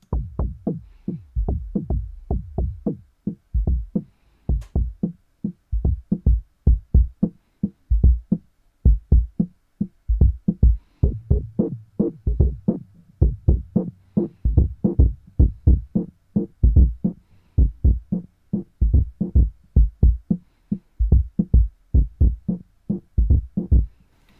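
Analog synth filter set to a low cutoff with high resonance, dark thumping pulses repeating in a steady driving rhythm, loud and alone.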